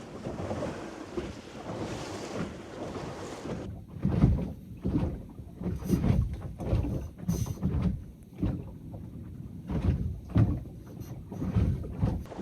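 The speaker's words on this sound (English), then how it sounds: "Ooh, here comes a bunch of wakes." Small electric outboard boat running through a series of wakes: rhythmic thumps and sloshing as the hull slaps repeatedly over the waves, with rushing water and a thin high whine, fairly loud and close.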